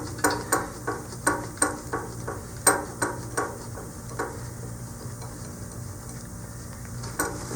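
A Darlin nut being screwed onto a flathead bolt on a scuba backplate and wing system gives a series of evenly spaced, close metallic clicks that slow and soften toward the end.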